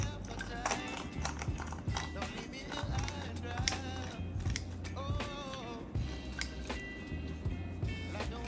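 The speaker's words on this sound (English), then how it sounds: "you're gonna need one of these kitchen scissors or kitchen shear, all right? Go ahead and remove the backbone." Kitchen shears snip through a raw chicken's backbone in a home kitchen, giving sharp, repeated crunching clips in an irregular rhythm, close and moderately loud, with a low steady hum and background voices beneath.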